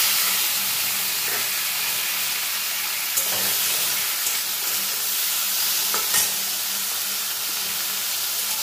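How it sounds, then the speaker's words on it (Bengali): Salt and turmeric coated shrimp fry in mustard oil with a loud, steady, hissing sizzle close by, broken now and then by a faint tap or stir, with no one speaking. "এবার আমি নুন হলুদ মাখানো মাছগুলো সামান্য 1-2 মিনিট হালকা করে ভেজে তুলে নেব"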